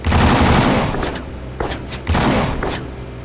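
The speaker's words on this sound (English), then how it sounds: "these appear to be 160 machine guns that are firing at me" A barrage of machine-gun fire in a combat flight video game, loud and continuous, with heavy dense bursts that swell and fade several times and no voices.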